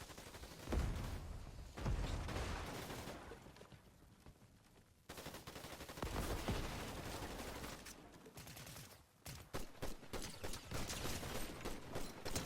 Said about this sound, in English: Somebody is shooting at this guy that I was going for